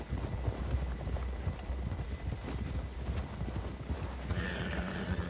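Horses gallop in the Red Dead Redemption 2 video game, hooves pounding in a steady fast rhythm with dense overlapping thuds, close and continuous, with a horse whinnying near the end over a low game background.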